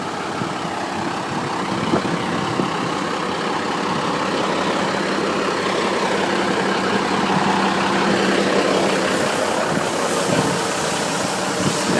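Army truck engine idling, a steady low rumbling drone with broadband mechanical noise throughout, constant and fairly close with no talk.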